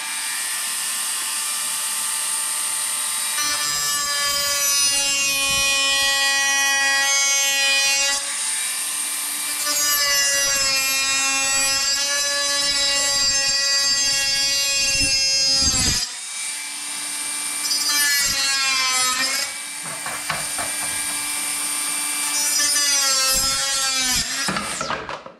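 A saw cutting through a piece during an electrical installation upgrade at an office: loud, close, sustained whining strokes with pitch changes, several long passes broken by brief pauses, and no speech.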